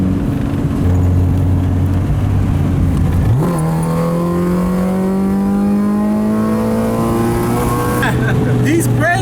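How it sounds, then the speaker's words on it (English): A Honda Civic with an H2B engine swap accelerates hard in third gear, its engine note loud and close, dropping sharply at a shift then climbing steadily in pitch. "Downshifting into third and gunning it, this thing pulls really hard in third gear."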